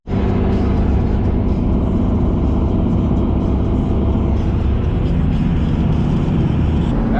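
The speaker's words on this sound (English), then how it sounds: "This is 3 times now I've needed four-wheel drive to pick up from this exact location. So I'm using 4 low." A pickup truck drives in four-wheel drive low through a bad-weather pickup spot, its engine a loud, steady low rumble that holds throughout without pause.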